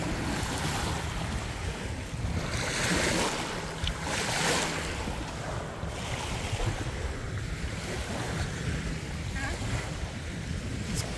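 Lake water laps and washes at Wasekiu Park near Prince Albert, Saskatchewan, under steady gusting wind that buffets the microphone in broad, continuous surges.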